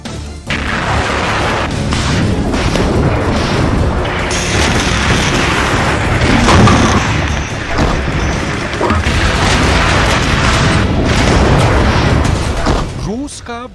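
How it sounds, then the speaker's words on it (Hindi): Missile strikes and artillery fire in Kharkiv produce heavy booms and crashes that swell and roll continuously, loud and dense, with a sharp impact near the end and a voice speaking over parts of it. "मिसाइल धमाके से दहल रहे खार्किव में भीषण संग्राम छिड़ा है।"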